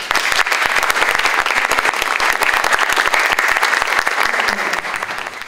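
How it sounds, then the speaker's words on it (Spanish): An audience at a commemorative ceremony in Tarata claps loudly in dense, continuous applause that holds strong, then tapers slightly near the end. "Los recibimos con un fuerte aplauso."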